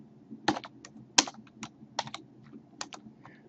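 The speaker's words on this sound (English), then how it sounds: "we're going to type again" Keys click on a computer keyboard in an uneven run of distinct taps, several sharper than the rest, close up against a low background hum.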